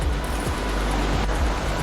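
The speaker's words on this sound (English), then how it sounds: "And today it's basically a torrent" A normally calm creek flooded into a rushing torrent during Cyclone Alfred, giving a loud, steady broadband roar of pouring water close by.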